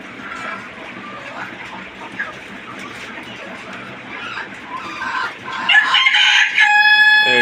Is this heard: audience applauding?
no